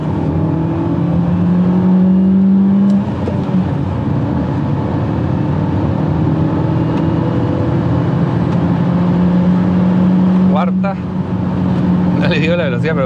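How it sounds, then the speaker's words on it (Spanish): A Renault Duster 4WD with a 154 hp 1.3 turbo direct-injection engine pulls in third gear at high revs. A loud, steady in-cabin engine drone holds for the whole stretch with a voice faintly over it. "Voy a bajar tercera, 4500 revoluciones y miren cómo empuja."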